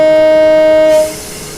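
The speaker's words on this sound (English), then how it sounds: "They've said they have improved the sounds of the trains" Class 455 electric train in Train Simulator 2018, a loud sustained horn-like tone that cuts off abruptly into steady rolling train noise.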